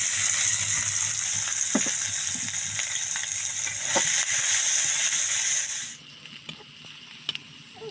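Chopped onions frying in oil in a pan, a loud continuous hiss and sizzle that drops suddenly to a quieter crackle, with a few stirring clicks near the end.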